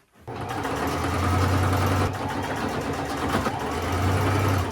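A sewing machine stitching shorts closed runs in one steady continuous whir that starts abruptly and holds a constant hum, close and alone.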